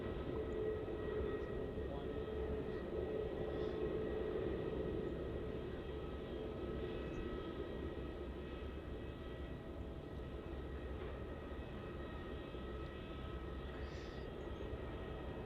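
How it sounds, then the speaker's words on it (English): Qantas Airbus A330 arriving from Delhi on final approach at Melbourne Airport, a steady, continuous jet engine roar at moderate distance that holds level throughout. "the Qantas A330 coming in from Delhi. Here it is on final approach."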